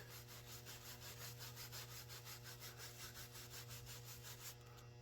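Someone scrubs a wooden Colt Sauer rifle stock by hand, a faint, rapid back-and-forth rasping rub in a steady rhythm, close up and alone without talk.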